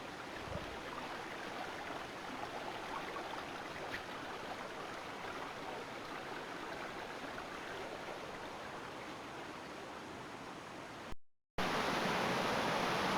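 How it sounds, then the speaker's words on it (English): Steady rushing water from small waterfalls along a bush walking trail fills the whole stretch, a constant broadband wash like a small cascade, close and even, with a brief dropout near the end. "Is there any better sound in the world than trickling of water?"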